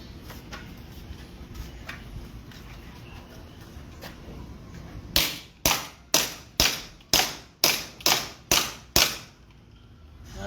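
A Sig Sauer tactical pistol fires about eight sharp shots in quick succession after several seconds of quiet, each crack loud and close with a brief decay.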